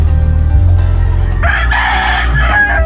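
A rooster crows loudly and close by, a single drawn-out call rising over a low background hum.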